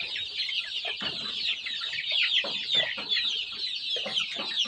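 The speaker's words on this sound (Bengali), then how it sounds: "আমার মুরগিগুলো তো একটা একটা নিয়ে দৌড়াদৌড়ি করতেছে, পালাচ্ছে।" Native hens cluck over and over, close and busy, as they scramble off with leafy greens. Steady bursts of clucking fill the whole stretch with only brief gaps.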